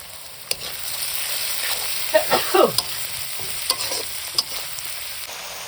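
Chopped tomatoes added to a pan of chicken kasha sizzling with ginger, garlic and green chilli, cooked outdoors in the rain. A steady fry sounds under several sharp clinks and scrapes of a spoon stirring, with no voices.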